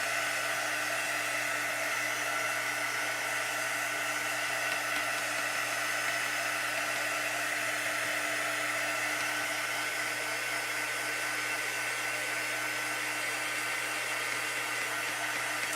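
Hair dryer blowing steadily on a craft project, a constant loud whooshing hum with a fixed motor whine, running alone without pause.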